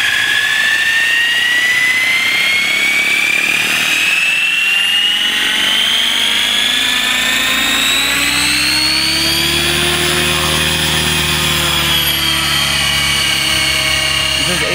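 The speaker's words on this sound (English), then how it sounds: "Let's spool it up and see how it flies." A Fusion 50 RC helicopter at 85% throttle spools up with a loud, close, steady turbine-like whine and rotor drone whose pitch rises gradually and holds, alone without talk.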